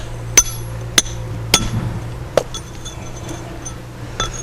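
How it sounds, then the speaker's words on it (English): Hammer blows chiseling flint in an outdoor quarry: four sharp, bright metallic clinks spaced roughly half a second apart, then a fainter fifth strike after a pause, each close and ringing briefly over low background rumble. "As you're chiseling down, it has to have a place to go."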